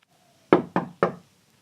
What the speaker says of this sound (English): that's when we got a knock at the door